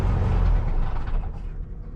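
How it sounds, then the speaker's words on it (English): A 1964 VW Beetle engine being shut off gives a rough, low rumbling clatter up close. It is loud at first, then thins and fades over about two seconds. "when I shut the car off it makes a pretty awful noise"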